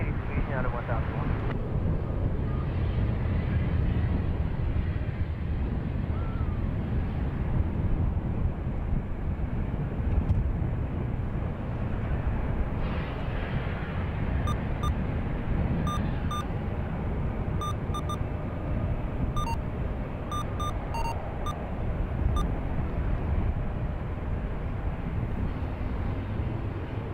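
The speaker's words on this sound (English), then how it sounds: "unfortunately it looks like we're only hearing the planes a tiny bit" Aircraft rumble at San Francisco International Airport, a broad, steady low roar heard at a distance, muffled by wind noise on the microphone, with faint faraway radio beeps toward the end.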